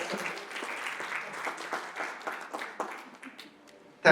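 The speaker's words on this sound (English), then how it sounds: "Let me invite you to clap your hands for our panelists" An audience claps for panelists at an Indonesian labour market and AI forum, a moderate spell of scattered clapping that thins toward the end before a louder burst at the close.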